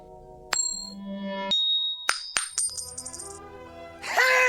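Quarter coin tossed and landing on a hard surface, several sharp metallic clinks and pings followed by a ringing spin-down.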